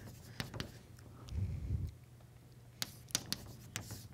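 Chalk or marker strokes on a board during a mathematics lecture, a few sharp taps and scratchy marks spread across a quiet room, with a brief low murmur in the middle.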